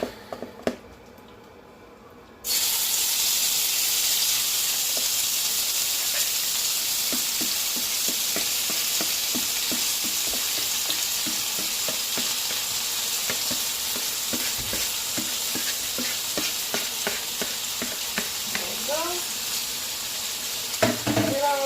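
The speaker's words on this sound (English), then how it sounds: "cook your shrimp until it has turned a nice, good, and light pink, and it started to curl up" Shrimp sear in a warm skillet for a Cajun chicken shrimp pasta, with a loud, steady sizzle that starts abruptly after a short quiet moment and continues throughout, with occasional scraping of a utensil near the end.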